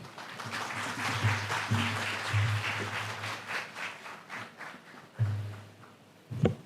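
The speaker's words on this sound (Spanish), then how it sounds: "Recibámoslo con un caluroso aplauso" An audience at an academic seminar on neurorights at a law faculty gives a warm round of applause, moderate and somewhat distant, with the clapping fading and swelling over several seconds.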